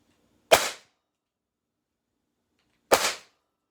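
Two sharp, sudden cracks from an AEA Defender air rifle firing .357 hollow-point pellets, spaced a few seconds apart, each with a quick decaying tail against near silence.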